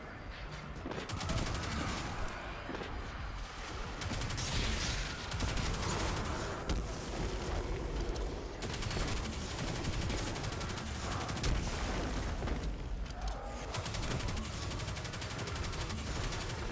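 Dense, sustained enemy gunfire in the video game Destiny 2, with overlapping bursts and rapid automatic fire cracking loudly and continuously throughout, punctuated by heavier booms.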